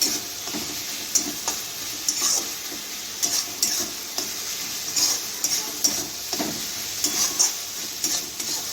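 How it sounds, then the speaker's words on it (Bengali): Marinated ingredients and spices frying in a pan, with a continuous bright sizzle and repeated sharp scrapes and knocks as they are stirred close by. "এর মধ্যে মশলাগুলো দিয়ে দেবো, একটু কাঁচা গন্ধটা বেরিয়ে যাক।"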